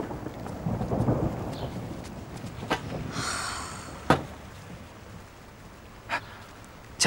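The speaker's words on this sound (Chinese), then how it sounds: "Oh my god， 这是打雷啊，怎么控制啊？" Thunder rumbles in a storm with rain, a low rolling boom followed by a few sharp cracks, moderately loud over a steady wash of rainfall.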